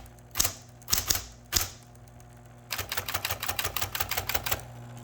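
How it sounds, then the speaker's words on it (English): A typewriter types: three single heavy key strikes with pauses, then a quick rhythmic run of keystrokes, close and clear with no talk. "there's the typewriter"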